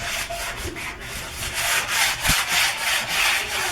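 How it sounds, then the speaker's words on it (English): A sanding sponge rubs back and forth over the wood of a built-in hutch, a close, rhythmic scratchy swish repeating several times a second without pause. "I'm just gonna take my sanding block because it has, you know, just to smooth it out"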